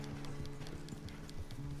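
Horse hooves in the Red Dead Redemption 2 video game during farm chores, a steady clip-clop of regular beats at a walking pace over a low background hum, with no voices.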